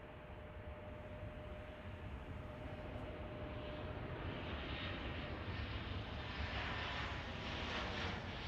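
Passenger jet arriving from Kansas City at Chicago O'Hare, a faint, distant engine roar that gradually grows a little louder and brighter, with no talk.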